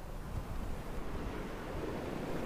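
Sea waves wash onto a beach where red outback sandhills run down to the coast, a steady, close roar of surf mixed with wind buffeting the microphone, with no voices.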